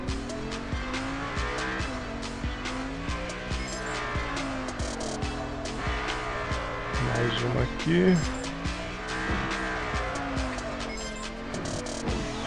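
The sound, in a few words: car drifting with tire squeal in the mobile game Drift Max Pro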